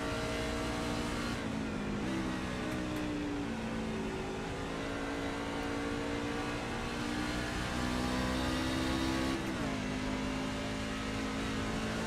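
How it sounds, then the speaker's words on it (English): A race truck engine in a video game roars steadily from onboard, its pitch climbing and dropping sharply with gear shifts around two and nine seconds, loud and continuous. "See what it sounds like inside of Holyman's car at the moment"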